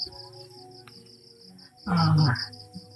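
Crickets chirp at night in a steady, rapid pulsing rhythm in the background, with a brief burst of a voice partway through.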